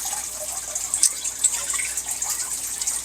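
Water poured onto a potted phalaenopsis orchid, a steady soft trickle and splash running the whole time with a few brighter drips near the middle, fairly close and alone.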